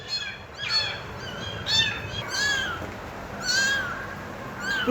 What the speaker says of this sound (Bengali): আর কই এই যে বিড়ালের বাচ্চা।